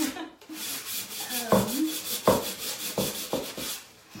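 Wood is hand-sanded with short, scratchy rubbing strokes in an uneven rhythm, close and moderately loud, while a small mini ladder is built.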